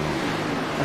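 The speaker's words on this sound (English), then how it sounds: "if I can't hear these car engines" Race cars roar in a steady, dense wash of engine noise at a Winter Series championship finale in Las Vegas, with no clear pass-by and no voices.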